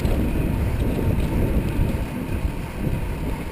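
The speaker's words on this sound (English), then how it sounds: "The wind's really strong" Strong, cold wind blowing outdoors on a snowy day, a constant loud, low rumble and buffeting that rises and falls in gusts.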